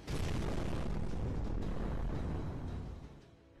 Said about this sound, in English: That explosion came from the castle keep